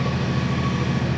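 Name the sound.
tractor-pulled seed drill running in a field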